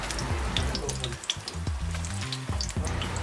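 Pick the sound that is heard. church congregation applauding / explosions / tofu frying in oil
tofu frying in oil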